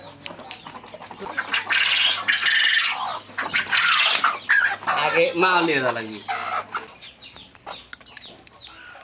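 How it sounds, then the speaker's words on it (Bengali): Native chickens on a small farm cluck and squawk loudly and close by in bursts, while a person speaks briefly amid the calls and a faint hum runs underneath. "এখানে হচ্ছে মুরগি দেওয়া আছে"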